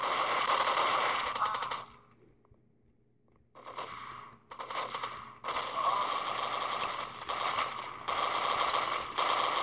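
Counter-Strike 1.6 played on an Android Galaxy Note 4, loud rapid automatic gunfire in long bursts, a pause of about two seconds, then repeated sustained volleys with short gaps between them.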